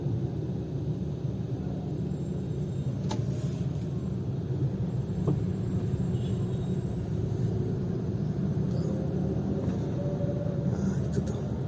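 Steady low traffic rumble as a large truck edges into a narrow alley in Indonesia, causing a jam; the continuous engine drone stays constant, with faint distant sounds on top.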